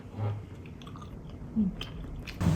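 Close chewing of Thai yam salad at a family meal, with soft wet mastication and a few brief louder bites and crunches.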